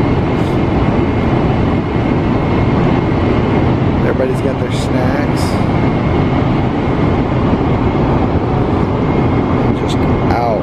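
Constant dense roar of a jet cabin in flight, with a voice speaking briefly over the hum.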